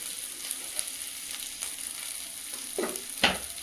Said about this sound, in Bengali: সামান্য একটু জল দিয়ে মশলাটা ভেজে নেব